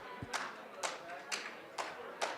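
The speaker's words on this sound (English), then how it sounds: "let's do the clapping thing. Yeah, clap." A handful of people in a conference room clap together in slow, separate bursts, five sharp claps spaced roughly half a second apart, moderately close, with faint murmuring between them.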